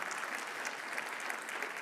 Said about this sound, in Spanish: un aplauso para los 3,